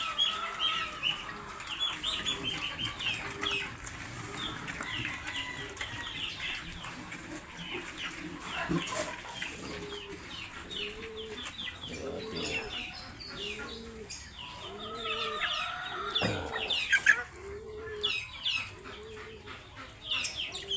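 Rhode Island Red chickens on a farm cluck and murmur steadily at close range, with some chirping birds in the background and no talk.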